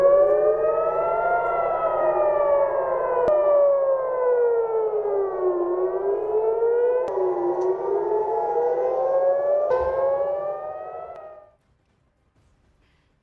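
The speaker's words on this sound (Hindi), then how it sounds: "ये तेल अवीव है जहां पर आप सायरन सुन लीजिए, ये खतरे का सायरन है।" Civil defense air raid siren wailing over Tel Aviv, several rising and falling tones sweeping up and down together with a few sharp clicks, loud and sustained for about eleven seconds before cutting off into near silence.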